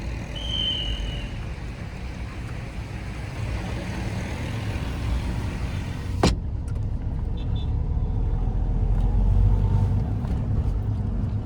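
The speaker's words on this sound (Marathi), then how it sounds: "पूर्ण ट्रॅफिक" Busy Sunday road traffic in Pune near Garware College, with a continuous rumble of cars and other vehicles passing close by and a brief sharp knock midway.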